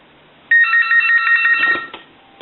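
A steady electronic tone sounds through the earpiece of an Astral Telecom Galway Crystal telephone under repair. It starts abruptly after a brief quiet, holds loud and narrow-band for about a second and a half, then cuts off.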